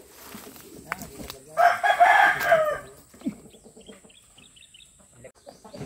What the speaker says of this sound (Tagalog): marami daw na labuyo rin dyan na naririnig niyang tumitilaok